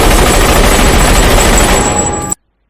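Dense, continuous gunfire in a warehouse shootout, loud and sustained like rapid automatic bursts, cutting off abruptly into silence.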